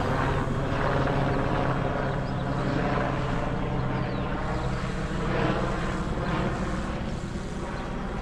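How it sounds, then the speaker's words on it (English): Airbus AS350 Squirrel helicopter cruising past at some distance, a steady broadband rotor and engine rumble holding even throughout without talk. "Squirrel AS350 cruising across."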